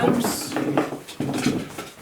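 Dogs whine and whimper in short high-pitched bursts close by indoors, several cries in quick succession with faint household clatter.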